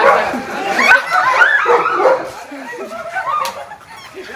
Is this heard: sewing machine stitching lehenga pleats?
no